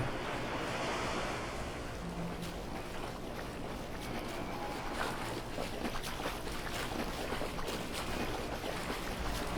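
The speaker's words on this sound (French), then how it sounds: "Je crois que c'est la marée" Surf from a tide washing in within the video game Dead Island 2, a steady broadband wash of waves with some wind, continuous and fairly loud throughout with no talking.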